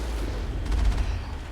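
Heavy gunfire in the Mass Effect video game, a short, dense rumble of many shots blending into a low, booming wash with a brief louder burst in the middle.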